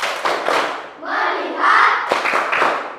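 A school class performs a rhythmic focus clap, with hand claps and thumps that mix with young voices chanting together in a bright, close room.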